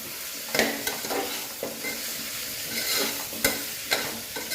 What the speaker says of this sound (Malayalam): ഒരു ടീസ്പൂൺ ഇഞ്ചി വെളുത്തുള്ളി പേസ്റ്റ് കൂടി ചേർത്ത് കൊടുക്കാം എന്നിട്ട് നന്നായിട്ട് ഇളക്കി കൊടുക്കാം